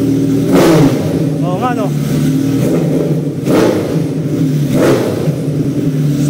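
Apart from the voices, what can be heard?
Kawasaki ZX-14R motorcycle revving with a straight pipe exhaust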